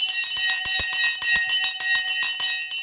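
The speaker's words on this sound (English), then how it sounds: "The bell is gone. There you go." A bright electric stock market closing bell rings in rapid, continuous repeated strikes for a few seconds, loud and close, with a sustained metallic tone.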